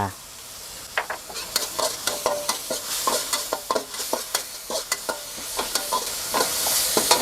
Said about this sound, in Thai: ผัดให้หอมเลยครับ